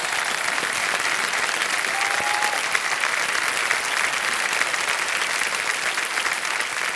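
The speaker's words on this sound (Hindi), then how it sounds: "तालियां बज जाए स्नेहा और उनके ग्रुप के लिए।" Studio audience applause on the KBC quiz show set, a dense, steady wash of clapping that stays loud and even for the full stretch with no voices over it.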